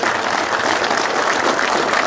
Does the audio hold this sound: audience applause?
yes